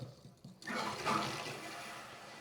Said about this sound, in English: Let water fill into the tank.